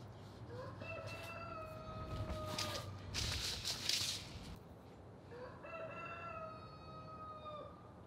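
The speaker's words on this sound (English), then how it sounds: "Hear that rooster back there?" A rooster crows twice at moderate distance, long drawn-out calls separated by a brief burst of rustling and clucking.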